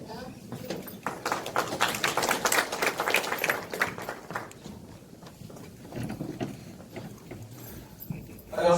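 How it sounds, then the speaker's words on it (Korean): Applause welcoming a committee member at a Hwaseong city citizens' regional meeting, a burst of clapping from the hall that swells in the first few seconds and then thins out under background voices. "앞으로 박수로 맞이하겠습니다."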